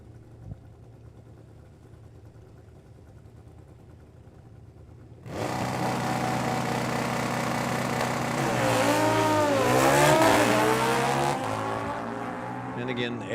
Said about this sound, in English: Got a Harley Davidson, and I believe David runs a Kawasaki.